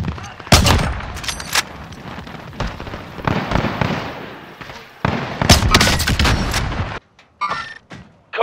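Rapid gunfire from Call of Duty Warzone in Verdansk: loud, dense bursts of shots and sharp cracks fill most of the stretch, with a short quieter gap near the end before the firing resumes.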